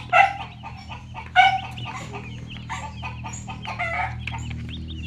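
45-day-old broiler chickens cluck and chatter near by in a coop, giving sharp calls at intervals over a steady low hum, with no talking.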